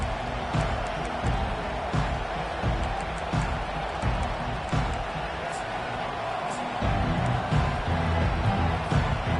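A packed stadium crowd roars steadily at a college football game between USC and Maryland just after the opening kickoff, a dense sustained cheer with whoops, swelling louder near the end under a commentator's voice.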